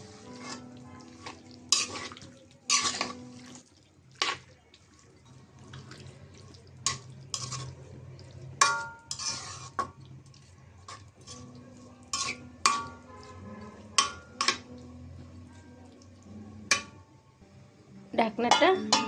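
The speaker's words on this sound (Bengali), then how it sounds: "ভালো করে নাড়াচাড়া দিয়ে ঢাকনা দিয়ে ঢেকে রাখবো।" Beef tripe curry with potatoes stirred in a pot, with scraping and clanks of a spoon against metal, soft sizzling between strokes and a lid set on top, while someone talks in Bengali at intervals.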